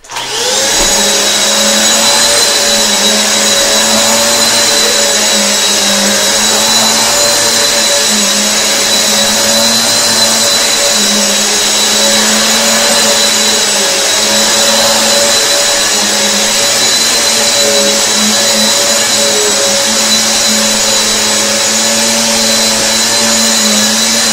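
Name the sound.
Hoover and Eureka vacuum cleaners running on medium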